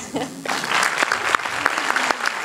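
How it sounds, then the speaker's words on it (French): Audience applause fills the room at a talk, a dense wash of many hands clapping steadily for a couple of seconds at moderate loudness, with a voice briefly audible underneath at the start. "je crois que on peut vous applaudir"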